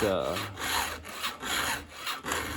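Repeated scrubbing strokes of a file across a STIHL chainsaw chain, a steady rasping back-and-forth rhythm of about five close, loud passes with no talking.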